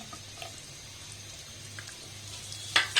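Onion, a large Indian onion, lightly frying in a spoonful of soybean oil, giving a soft continuous sizzle with a couple of sharper clatters near the end, no talking.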